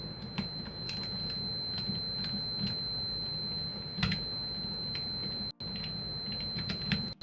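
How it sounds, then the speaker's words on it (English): A thin, steady high-pitched beep from a multimeter in diode mode, its probes touching, drones continuously during laptop repair, with occasional soft clicks and taps around it and two brief cut-outs. "that noise was my meter hitting together because I have it in diode mode"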